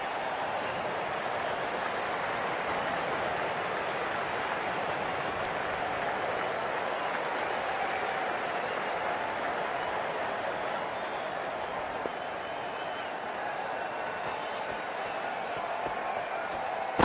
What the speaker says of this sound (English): A warm reception from the crowd.